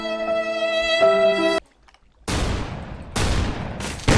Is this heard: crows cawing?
no